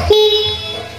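The horn of a 2017 Honda CBR 250 ABS motorcycle gives one short, clear beep of about a second, close by and moderately loud.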